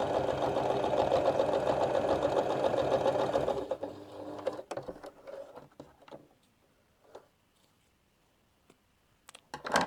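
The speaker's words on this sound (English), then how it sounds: "So I'm sewing, I'll show you at the end, down each side and then once down the middle" A sewing machine runs steadily for about four seconds while stitching the side and middle seams of a fabric laundry bag for a quilting project. It then stops, leaving a few faint clicks and handling sounds.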